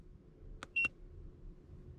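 Two short electronic beeps from an Ancel FX3000 scan tool as its enter button is pressed, the second brighter and slightly longer, close and clear over a faint steady background hum.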